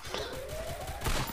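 Rapid gunfire bursts in a PC shooter game played with keyboard and mouse, a quick fusillade of shots with a steady electronic tone underneath, close and fairly loud.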